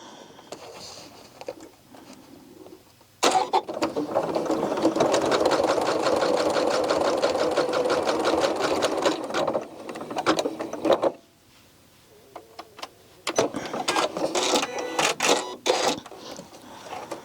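A sewing machine stitches a coiled rope bowl with a fast, steady whirring hum. It runs close and loud for about eight seconds, stops, then starts again in shorter stuttering bursts, with quiet moments between the runs.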